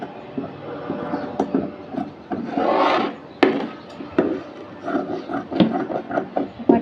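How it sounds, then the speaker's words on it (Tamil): Scissors snip through blouse fabric along a curved line rather than straight, giving a series of close, dry rustling cuts and scraping rubs of moderate loudness, with no talk over them. "இது ஸ்ட்ரைட்டாக கட் பண்ணாமல் கர்வ் மாதிரி கட் பண்ணிக்கலாம்."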